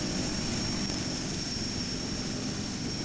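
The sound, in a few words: DHC-6 Twin Otter propeller aircraft in GeoFS flight simulator video game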